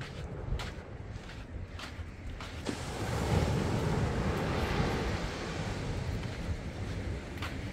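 Ocean waves wash onto a beach in Senegal as a steady broadband roar mixed with wind buffeting the microphone, swelling louder about midway and holding there, with no voices.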